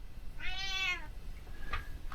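A single drawn-out cat meow, clear and fairly close, followed by a couple of faint short chirps in a quiet room.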